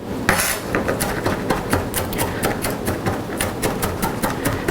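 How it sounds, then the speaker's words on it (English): A knife chops garlic on a cutting board in a home kitchen, giving fast, evenly spaced crisp taps close up, with no talking. "bounce your knife through the garlic. It'll kind of chop itself."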